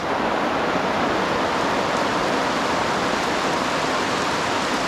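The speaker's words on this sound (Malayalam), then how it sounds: "നല്ല മഴ പെയ്യുന്നുണ്ട്" Heavy rain pours steadily, a dense, loud, unbroken hiss that fills everything, with no voices or other sounds breaking through.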